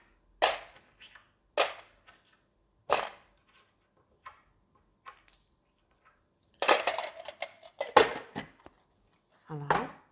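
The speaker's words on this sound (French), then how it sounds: "je prends cet argent et je la mets dans ma tirelire directement électronique" Coins drop one by one into an electronic piggy bank, each a sharp, close metallic clink spaced a second or so apart, ending in a quicker cluster of clattering coins, with a quiet voice in the background.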